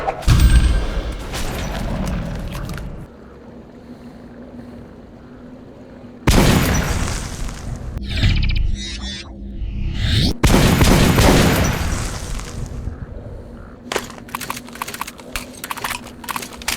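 Shotgun blasts from the Metro video game, a few loud separate booms with mechanical reload clatter and quieter gaps between shots.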